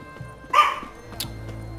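A dog in The Witcher 3 barks once sharply, with a softer yelp following, close and clear over quiet game ambience.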